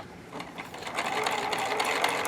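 A White Euroflair 8910 sewing machine made by Husqvarna Viking runs steadily, its rapid mechanical clatter and whirring stitches picking up slightly in pace, fairly quiet and close.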